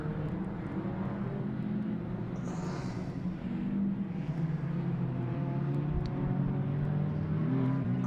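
Rallycross cars racing at Mondello Park, among them a Chevette, a continuous layered engine drone with rising and falling revs, moderately distant and steady.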